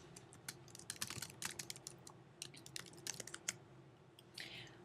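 Someone presses the return key while typing on a Mac keyboard: a quiet run of irregular, crisp key taps and clicks, close to the microphone, with no talk.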